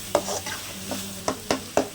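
Tomatoes softening in a frying pan for an egg podimas, with a low sizzle under several sharp scrapes and taps of a spoon stirring against the pan, quiet and close.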